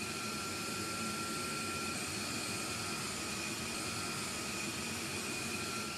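Jet engines of a B-1B Lancer bomber give a constant, loud whine and rushing roar with high tonal hums, holding a steady level with no voices.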